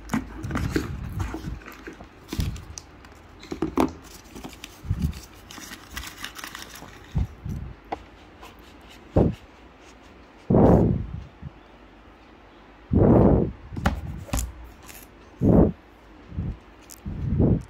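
Packaging of a MacBook Air 2020 being unwrapped, with intermittent crinkles, rustles and soft tearing bursts of plastic and paper, some loud and close, separated by quieter pauses.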